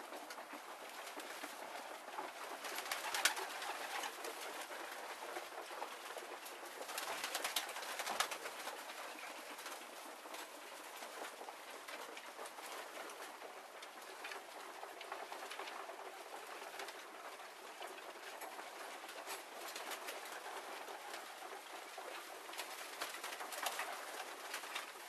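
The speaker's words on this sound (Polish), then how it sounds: "Wylatują ostatnie gołębie." Racing pigeons coo softly at a loft while the last birds fly out, distant wingbeats and cooing over a quiet outdoor background.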